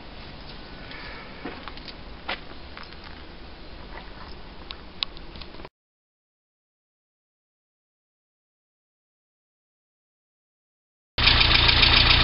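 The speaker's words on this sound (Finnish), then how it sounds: "Autossa on mukava raikas tyhjäkäynti, ei pätki, käynnistyy aina tarvittaessa." A Chrysler 1307 engine idles with a steady low rumble, then drops to silence for several seconds before a louder engine sound returns at the end.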